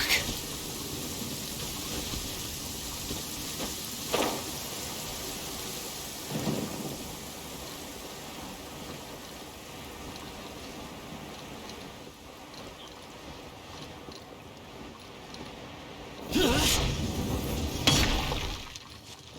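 Steady rainfall in the Genshin Impact Archon Quest, with a constant hiss throughout and a few heavier crashing bursts near the end that suggest rolling thunder in the game's storm.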